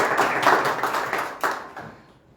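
A short burst of applause from a small audience at a book presentation, a few seconds of close clapping that fades quickly into quiet.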